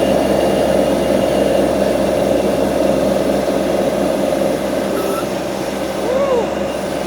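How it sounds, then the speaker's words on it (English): A SCAG Jackal compact loader's engine runs loudly and close, a steady heavy mechanical roar as it throttles up, with faint brief chirps in the background. "So I'm going to throttle the machine up, and where we'll pick up."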